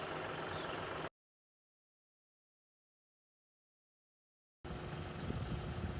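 Tractor engine running steadily while baling hay at a neighbor's farm, a John Deere 5065E with a New Holland baler, a continuous mechanical drone heard in two stretches separated by a gap of silence.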